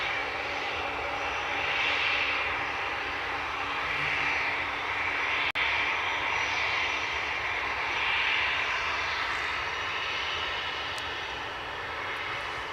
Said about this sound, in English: Aer Lingus off to Dublin, which you might well guess, with the A320 that's there